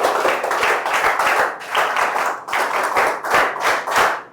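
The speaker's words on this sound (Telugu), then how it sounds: "గట్టిగా చప్పట్లు కొట్టి అందరూ అభినందించండి" An audience of students and parents at a school event in Rampachodavaram breaks into loud, sustained applause, with dense hand clapping that swells and dips in waves throughout.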